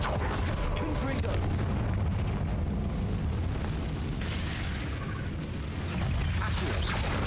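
A Confringo blasting spell explodes in the Hogwarts Legacy wizarding game, loud rumbling blasts and booms layered over dense in-game noise, with a brief lull midway before the blasts swell again.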